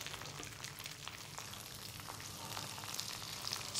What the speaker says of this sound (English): Get that instant sear from that high heat